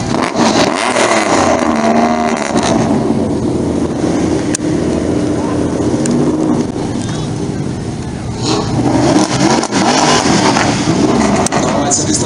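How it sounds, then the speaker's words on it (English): A supercar revs its exhaust during a street parade amid a loud, busy crowd, with the engine roar rising and falling under continuous background noise and voices. "Do you want Eric to rev his exhaust?"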